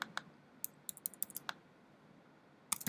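Quiet clicks of typing on a computer keyboard, a quick burst of about a dozen keystrokes followed by a pause and then a few more taps, close and soft with no voices.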